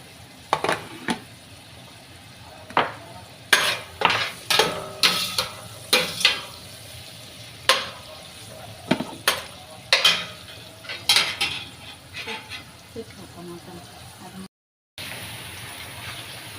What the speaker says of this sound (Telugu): ఆయిల్ అయితే వేసుకున్నానండి. వేసుకున్న తర్వాత అయితే ఉల్లిపాయలు అయితే వేసుకున్నాము.